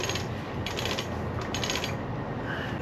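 A sailboat winch ratchets with a dense, close clicking of pawl and gears, turning steadily for a few seconds with faint brighter bursts.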